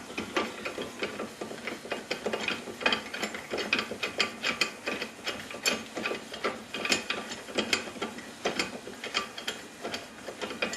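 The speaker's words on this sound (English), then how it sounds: "I can go ahead and loosen up our nut" Wrench loosening a nut on a junior dragster drive clutch, a close series of quick clicking ratchet strokes in irregular bursts.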